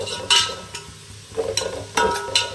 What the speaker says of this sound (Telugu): మనకి బిర్యానీకి టేస్ట్ ఈ ఉల్లిపాయలు బ్రౌన్ కలర్లో రావాలి